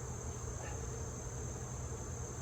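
Honey bees buzz around an open ten-frame hive on a hot August day, a steady, even drone that holds without pause throughout.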